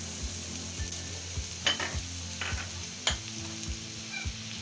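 Chicken and vegetables, including cabbage, carrot, capsicum and green chillies, stirred in a sizzling pan, with a steady low frying hiss and a few sharper scrapes of the spoon against the metal.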